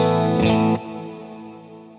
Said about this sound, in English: Longer reverb.